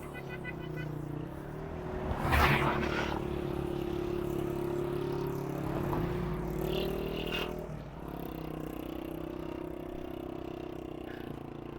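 Road traffic on a highway on the route from Karachi toward the China border, with a steady engine and tyre rumble, a louder vehicle passing close by early on and lighter whooshes later, continuous throughout.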